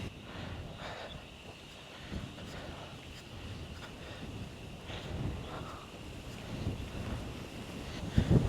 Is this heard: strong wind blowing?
yes